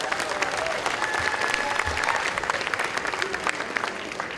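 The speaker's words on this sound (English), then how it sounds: "Give them a round of applause." An audience at a crab feed dinner claps for congressmen, a senator and an assemblymember, with a steady, dense round of applause sustained for several seconds.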